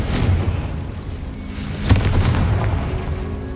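The Confringo spell in Hogwarts Legacy sets off blasts heard as low booming thumps, one sharper burst near the middle, over a rumbling game background with no talking.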